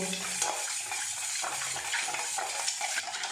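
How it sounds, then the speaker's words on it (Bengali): Dry yeast being stirred into liquid in a bowl, a steady close swishing and scraping that runs throughout with no voices. "এখানে আমি ডাই ইস্ট দিয়ে দেবো ওয়ান টিএসপি দিয়ে দেবো আরও হাফ টিএসপি ভালো করে মিশিয়ে নেব"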